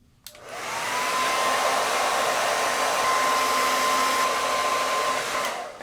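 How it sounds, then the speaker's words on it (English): A hair dryer blowing on curly hair at the roots, switched on with a click and then running as a loud, steady, close whir for several seconds before easing off. "I just realized I dry the roots first."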